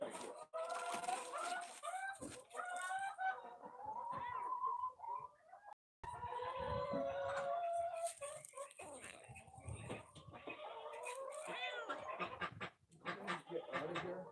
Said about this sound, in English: Come on, move, chicken.